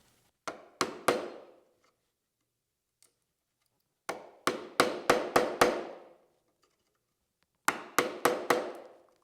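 Chisel struck with a mallet while cutting a dovetail pin board, sharp close knocks in three quick clusters of three to five blows separated by pauses, each hit ringing briefly before the next.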